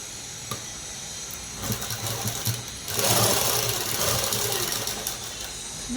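A sewing machine stitches a small folded square of fabric, whirring in short runs that build into a louder, steady mechanical hum nearby, with no speech.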